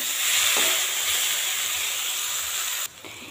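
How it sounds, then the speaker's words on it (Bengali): Taro stolons fry in a pan over high heat with a steady, close hissing sizzle. It holds constant for about three seconds, then drops abruptly to a quieter hiss. "একটু লালচে করিয়ে কচুরলতাটা এইভাবে ভাজা লাগবে"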